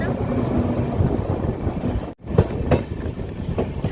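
A train rolls through Domanpur forest in Buxa Tiger Reserve, a loud steady rumble with faint clickety-clack and wind buffeting, briefly cut by a sharp dip before the running noise resumes.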